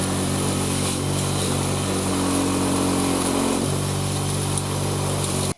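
A grinder sharpening old Mora knives with a convex edge runs as a steady, loud motor whine with a continuous hum before cutting off abruptly at the end, with no speech.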